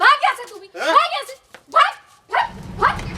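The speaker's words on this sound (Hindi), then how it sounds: "बाहर पागल कुत्ते थे, भौंक रहे थे" Agitated dogs barking outside in a Hindi telefilm, several sharp barks and yelps in quick bursts with short gaps, close and loud.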